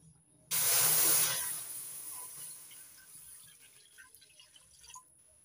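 One litre of milk poured into a wok (kadai) on a gas stove for a palm-fruit dudh puli pitha recipe: a sudden loud splashing rush that tapers after about a second into softer dripping and hiss.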